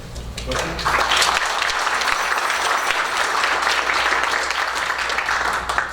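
Steady applause from a crowd at a school board meeting, a dense wash of clapping that starts quickly and holds at an even level for several seconds.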